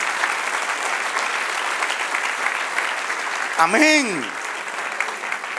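Congregation applause in a church service, sustained loud clapping with a voice calling out briefly partway through.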